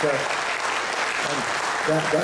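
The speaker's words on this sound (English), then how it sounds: "let's give Prem another round of applause for doing it" Dense audience applause for Prem Singh fills the whole moment, with voices audible through the clapping.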